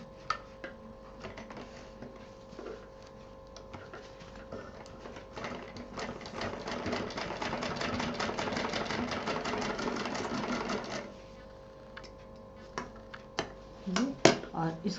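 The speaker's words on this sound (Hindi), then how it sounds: "यहाँ पर पलट के डबल सिलाई देनी है।" A sewing machine double-stitches a DIY tiffin case, a rapid ticking run building in the middle and stopping, with quiet handling noises and soft clicks before and after.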